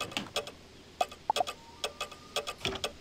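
A cuckoo clock in a player's house in the video game Wizard101 ticks in an even rhythm, with a few brighter chiming clicks, fairly quiet and with no talking.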